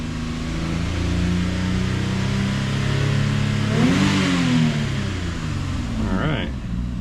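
A car engine revs under throttle while parked for throttle-loss diagnosis, a steady loud idle drone rising to a swelling rev that peaks and falls back, then a short second blip.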